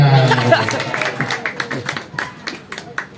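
An audience claps at a regional legislator's community outreach meeting on waste management regulations. The clapping is a loose, uneven patter of hands that thins out as it goes.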